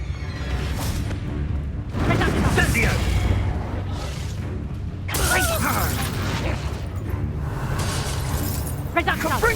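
Spellcasting combat in Hogwarts Legacy on Xbox Series, with an Incendio fire spell among rapid blasts, crackles and bursts, loud and dense throughout, over a steady low game rumble and music, with a voice calling out spells.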